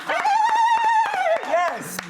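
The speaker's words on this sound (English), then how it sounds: "I've got a very tired puppy on my lap" A tired puppy on someone's lap gives a drawn-out, high, wavering whimper, close and fairly loud, that rises and falls for about two seconds.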